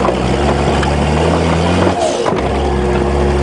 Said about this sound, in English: Who said you can't drive across a ploughed field?